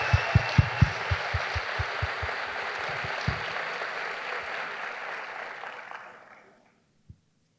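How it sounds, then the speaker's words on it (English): An audience at a school opening-day assembly breaks into applause, dense clapping with a few sharp near claps early on, holding steady before fading out near the end, followed by one last isolated tap. "I just want to give another round of applause"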